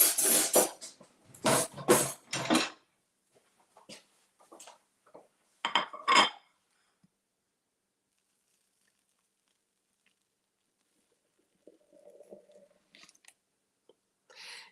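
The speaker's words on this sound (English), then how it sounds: "so let me just get a table knife" A table knife clinking and scraping against dishes in a series of sharp, close, brief clatters, followed by quieter faint taps and rustles.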